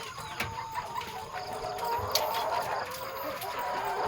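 Chickens, including a rooster, cluck softly and intermittently in the background during egg collection, with a faint steady hum and scattered small bird calls; nobody speaks.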